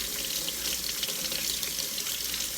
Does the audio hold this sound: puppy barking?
no